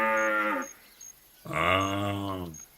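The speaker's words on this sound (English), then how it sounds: "Yeah, it sounds like a cow." A cow in the hunting game theHunter Classic moos twice, each a loud, drawn-out lowing call, the second longer, with soft ambient chirps behind.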